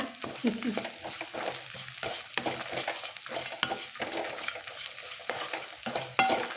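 Onions sautéing in a pan for a spicy onion chutney, with repeated scraping strokes of a spatula against the metal over a continuous close sizzle, fairly loud and busy throughout.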